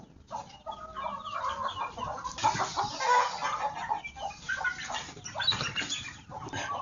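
Free-range Javanese village chickens (ayam kampung) on a poultry farm cluck and chatter continuously, with some soft wing flapping, fairly close and moderately loud, with no one speaking.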